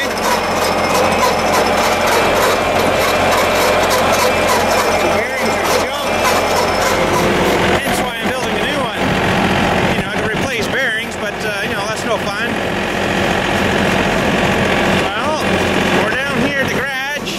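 An old trailer's engine runs steadily nearby, a loud, rough idling drone with a mechanical clatter that persists throughout, with a person talking over it.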